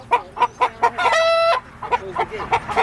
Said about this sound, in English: Just walk the ducks in here.